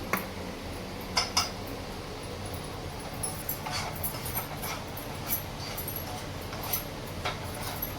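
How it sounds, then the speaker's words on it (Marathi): Semolina (rava) is dry-roasted in a pan, with a spoon scraping and clinking against the metal at irregular intervals over a low, steady background. "मी याच्यावरती हे रवा भाजून घेणार मी आता याच्यावर"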